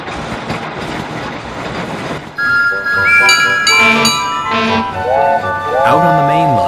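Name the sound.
train starting off with a hoot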